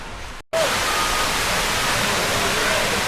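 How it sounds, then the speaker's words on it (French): Waterfall in Thailand roaring as a steady, dense broadband rush that starts abruptly after a brief gap and stays loud and unbroken throughout, with no voices. "Une cascade."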